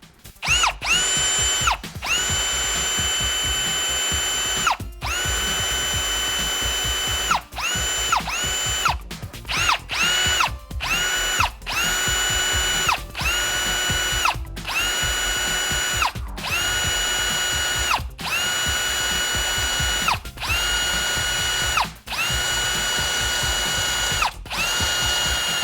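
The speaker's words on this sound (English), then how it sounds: "we'll go ahead and start the couple pilot holes" A power drill runs in repeated bursts while boring pilot holes through a trunk for a spoiler on a GX470 fitted with a half-inch depth stop. The whine is close and loud, broken by brief pauses and a ratcheting clatter.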